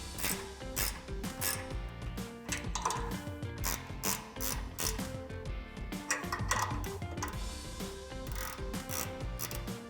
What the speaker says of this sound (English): I'm going to use my 14mm ratcheting wrench, tighten up our 4 bolts that we left loose.